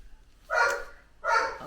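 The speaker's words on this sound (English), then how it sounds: "Oh, Cooper's barking." Two sharp barks from a dog named Cooper, spaced apart and somewhat distant, heard indoors from a home office with little else around them.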